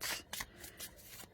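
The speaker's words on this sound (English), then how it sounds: "So overhand feels okay to shuffle." Tarot cards in an indie-printed, coated deck being shuffled overhand, giving quiet, close, irregular papery slaps and rustles in short bursts.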